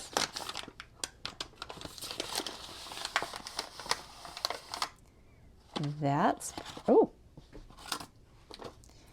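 Crinkly wrapping on an advent calendar gift being torn open, with bursts of close crumpling and tearing broken up by pauses, and a voice sounding briefly in the middle.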